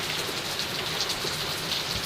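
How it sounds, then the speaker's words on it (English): Steady rain falling outdoors, a dense continuous hiss of drops pattering on surfaces, fairly loud and unbroken, with no voices. "Right now it's just rain"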